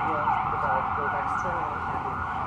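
An ambulance siren wails on a Manhattan street, a steady loud warbling tone that carries on throughout with traffic noise beneath.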